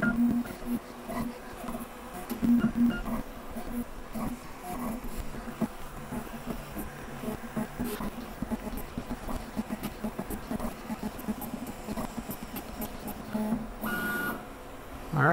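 A Creality K1 3D printer runs its self-test, checking the corners with busy whirring and buzzing stepper-motor movements and short mechanical clicks, steady and moderately quiet up close.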